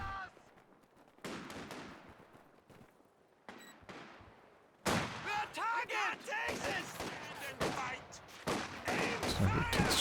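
Sniper fire in the real-time strategy game Company of Heroes 2 during a 2v2 match, with sharp gunshot bursts and battle noise growing dense and loud in the second half, mixed with scattered talk.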